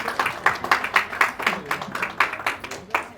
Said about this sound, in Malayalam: നല്ലൊരു ക്ലാപ്പ് കൊടുത്ത് തന്നെ അദ്ദേഹത്തെ സ്റ്റേജിലേക്ക് ഇൻവൈറ്റ് ചെയ്യാം.